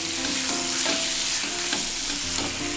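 Chicken masala for biriyani is stirred in a pan, with a continuous sizzle of frying and the rhythmic scrape of a spoon against the pan repeating about every half second, close and without talk.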